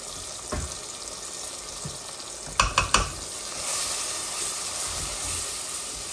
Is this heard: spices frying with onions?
yes